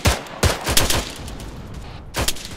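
In the Arma 3 game, BTR armored vehicles fire on troops: several loud, sharp gunshot bursts come in quick, irregular succession, then a short lull and a final heavy shot.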